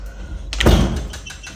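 A stuck patio door is shoved and rattled, with a loud, close thud and scrape peaking midway through a short burst of knocking against the frame.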